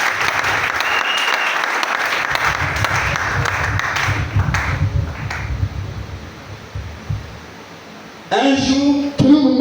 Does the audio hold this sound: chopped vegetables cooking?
no